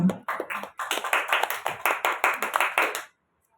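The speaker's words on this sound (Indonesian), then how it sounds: "Tepuk tangan buat kita semua." Primary school teachers in Indonesia applaud together at a school event, a loud, fast run of close hand claps lasting about three seconds before stopping abruptly.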